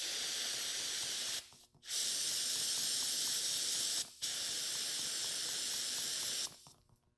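Three pressurized hisses of non-chlorinated brake cleaner sprayed from an aerosol can, each a sustained burst lasting a second or two, separated by short pauses, close and moderately loud.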